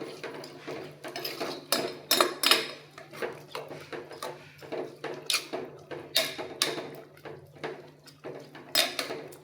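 Repeated scraping and clinking of a utensil against a metal pressure cooker pot while rice is stirred, in an irregular rhythm, close and fairly loud.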